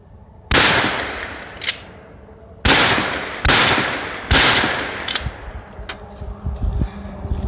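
A Remington 870 Express 20 gauge pump shotgun fires outdoors: four loud, sharp blasts at irregular intervals, each with a short rumbling tail, plus smaller knocks between them from the pump action being worked.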